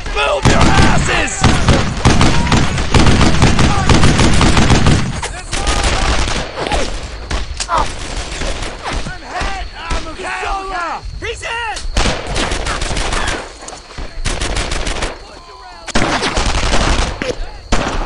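Dense, loud video game gunfire from Brothers in Arms: Earned in Blood, with rapid bursts and single shots layered continuously throughout as combat voices shout over the battle.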